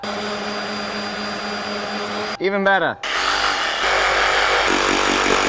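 Investment mold for casting a cavalry sabre rattling on a vibrating table, a loud continuous buzzing drone with a brief motor-like warble in the middle, and a short spoken remark.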